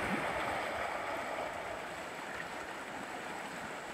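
Stream water flows steadily past a log feature in a steep, limestone-reinforced channel, a continuous broadband rush and gurgle at close range with no voices.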